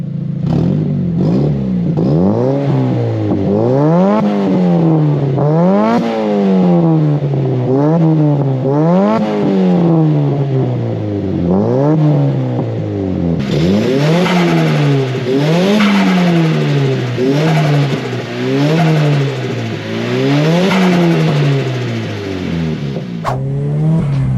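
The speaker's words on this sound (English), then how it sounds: "I'm gonna get some sound clips to show you guys what the car sounds like." A modified Nissan S15 Silvia engine revs hard again and again while driving, each loud rise followed by a drop at the gear change, in a steady repeating pattern heard close and with no talking.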